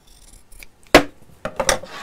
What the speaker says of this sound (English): I'm just going to trim into the curves